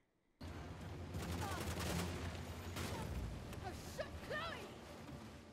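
Gunfire erupts in the Uncharted video game after a brief silence, rapid overlapping shots and a few heavier booms, with sharp whooshing effects mixed in near the end.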